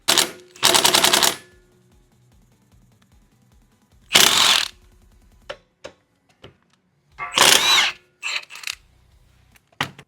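Air impact wrench with chrome sockets working on a Yamaha YFZ450 quad build, three loud rattling bursts about a second each, separated by quiet gaps, close up, with scattered clicks and small clanks of tools between bursts.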